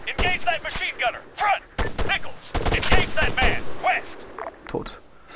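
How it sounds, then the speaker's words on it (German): Gunfire in the military shooter ArmA 3, with sharp single shots and quick bursts cracking close by at irregular intervals and a voice speaking between and over them. "Ich höre Schüsse um meine Ohren fliegen."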